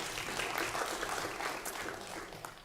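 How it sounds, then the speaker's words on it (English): A conference audience at a UN event applauds a speaker, a dense, even wash of clapping from many people heard from a middle distance for a couple of seconds. "So let's have a big round of applause for Dr."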